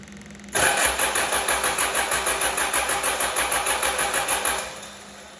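A Mazda RF 2.0 diesel engine cranks for about four seconds with a steady rhythmic chug of the starter and compression beats, loud and close. It stops without catching cleanly. No one speaks.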